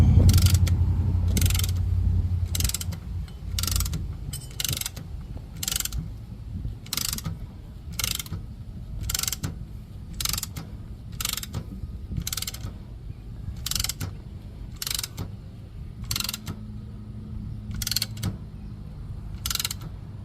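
Brake caliper piston compressor tool cranked on a 2001 Ford F-150 4x4 front brake job, a close rhythmic series of ratcheting clicks at a steady pace over about twenty seconds, no talk.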